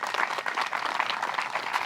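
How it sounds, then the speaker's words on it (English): A gallery at the 2024 Des Moines Challenge women's disc golf round applauds Hailey King with steady, soft, distant clapping that carries on alone throughout. "Round of applause for Hailey King."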